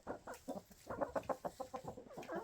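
Chickens cluck in a farm coop in Maine, a quick run of close, rhythmic clucks and murmurs that rises and falls, with no talking over it.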